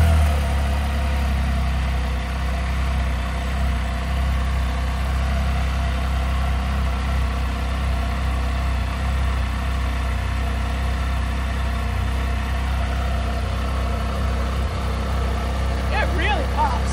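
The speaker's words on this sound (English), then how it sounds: "I'm gonna start the whole bike up and see how it looks with all the other lights as well" A Can-Am F3 motorcycle engine idles with a steady low rumble that holds loud and even throughout, with no pauses.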